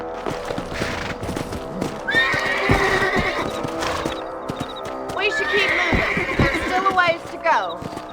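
Horses in the Red Dead Redemption video game whinny loudly several times over clip-clopping hooves, while a voice speaks intermittently over the action.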